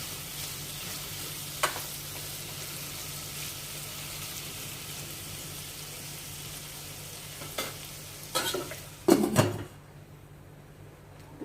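A steady low sizzle of potatoes frying in a pan continues throughout, with a few scraping stirs and clunks toward the end before it quiets.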